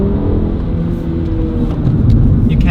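A Mini car's engine rumbles low and steady after a downshift, building slightly in strength toward the end under interior road noise.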